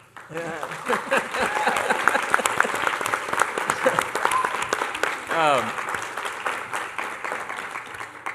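Supporters and family break into steady applause for a new head coach at a school board meeting, a close, dense patter of clapping with people talking and voices rising over it.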